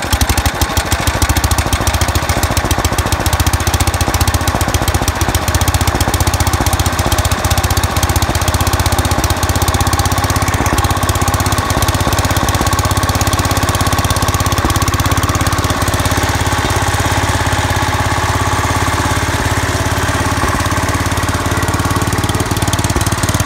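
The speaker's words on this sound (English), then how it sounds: "that was my tractor running" A 1966 Wheel Horse 1056 lawn tractor engine runs steadily up close, a loud continuous rough mechanical drone with rapid knocking pulses that holds throughout, no talking.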